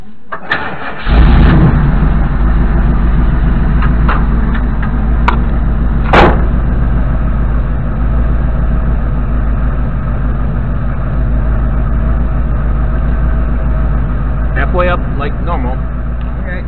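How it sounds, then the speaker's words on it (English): 1988 Fleetwood Jamboree motorhome engine cranking and catching, then settling into a loud, steady rumbling idle that carries on with a few sharp knocks and clicks over the top. "And then it's time to start the engine."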